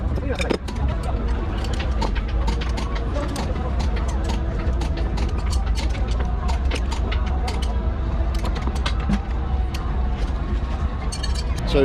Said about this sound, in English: just torquing the front axle up, all the U-bolts and centre bolts